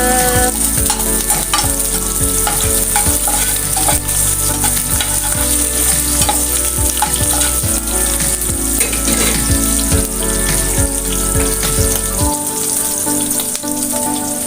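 Onions frying and being stirred in a pan while chicken is cooked Nepali style, with a dense, steady sizzle and repeated scraping stirs close by for most of the clip, stopping shortly before the end.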